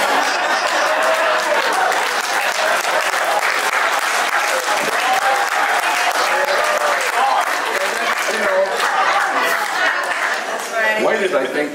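Audience applause mixed with chuckles and laughter after a joke during a talk at Homeboy Industries, a dense, loud wash of clapping from a crowd lasting nearly twelve seconds, with scattered voices underneath.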